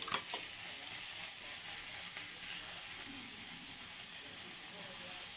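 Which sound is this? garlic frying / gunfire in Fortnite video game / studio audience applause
garlic frying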